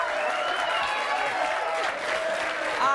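Sustained applause from a French TV talk-show studio audience, thick and even throughout, with some voices faintly audible beneath it.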